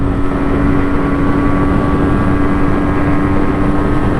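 A motorcycle cruises in fourth gear just below 60, giving a loud, steady engine drone mixed with wind rush. The sound holds constant with no gear changes or pauses.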